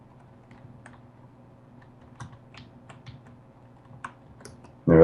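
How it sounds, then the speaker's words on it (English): Light, scattered clicks of typing on a computer keyboard come in an irregular patter at close range, soft against a low background hum, ending in a sudden loud burst. "No, that was me typing."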